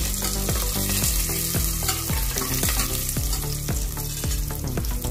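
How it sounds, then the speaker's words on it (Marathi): Raisins and dried apricots frying in hot spiced oil in a pan for Kashmiri pulao: a loud, steady sizzle runs throughout, broken by regular spoon-on-pan knocks and stirring scrapes. "मनुके घालून घ्या आपण, जरदाळू, घालून घ्या।"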